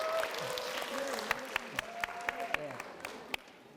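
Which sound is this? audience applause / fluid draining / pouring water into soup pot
audience applause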